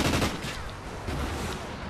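Gunfire in a video game, with a sniper rifle shot among it: dense, loud, overlapping cracks and booms fill the short stretch without pause, and the opening moment is the sharpest.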